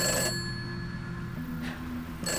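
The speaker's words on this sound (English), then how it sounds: "It's just a phone." A telephone rings in short bursts, one at the start and another at the end, close and clear against a quiet background with no talking.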